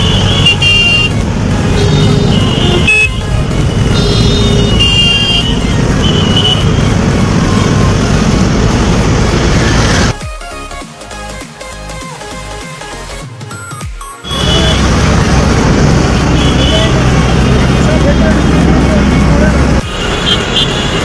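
Road traffic on Howrah Bridge: a steady wash of car and bus engines with occasional horn toots, loud and close, briefly dropping to a muffled interior hum before the full roadway roar returns; voices talk over it.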